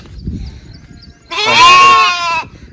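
Lambs held inside a wire enclosure; after a quiet moment one lamb lets out a single loud, close bleat lasting about a second.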